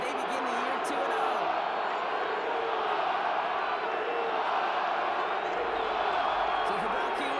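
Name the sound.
crowd cheering in Madden NFL 25 video game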